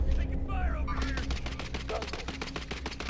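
Rapid automatic gunfire cracks in steady bursts during a Call of Duty: Modern Warfare match, loud and close, running continuously for a few seconds with a brief whistling tone early on.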